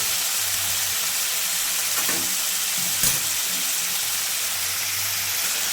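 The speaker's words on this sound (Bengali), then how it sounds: "আলুটাকে ভেজে নিচ্ছি এখন" Potatoes frying in a pan in a village kitchen, a steady broad sizzle and hiss running throughout with a couple of brief stirring clatters, close and moderately loud.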